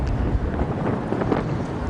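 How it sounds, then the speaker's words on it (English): Steady wind buffeting the microphone at an outdoor tennis stadium court during an evening doubles match in Las Vegas; continuous low rumbling roar with no clear voices. "It is a little breezy"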